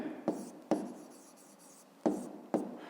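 A pen writes an answer by hand on paper during a fifth-grade maths exercise, giving soft scratchy strokes with four sharp taps as the pen touches down, close and quiet.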